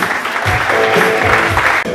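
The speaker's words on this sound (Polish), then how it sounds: "Numer 8, wielkie brawa, Mersan Basabek!" Crowd applause during a team presentation for the AZS Koszalin 2017/2018 season, dense and continuous clapping from a large audience, fairly loud throughout.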